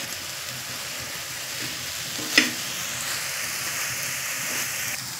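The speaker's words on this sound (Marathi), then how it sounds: "मसाला आपला मस्त परतवून झाला आहे" Masala spice mix of coriander-cumin powder and garam masala sautéing in oil in a pan, a steady close sizzle with a single sharp scrape or clatter of stirring partway through.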